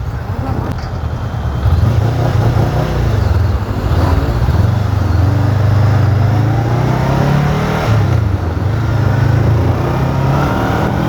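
A 2025 Honda CBR 500R motorcycle engine, still in break-in, revs in loud sustained swells that rise and fall over a steady drone while ridden two-up on the road, with wind noise throughout and a voice talking faintly over it.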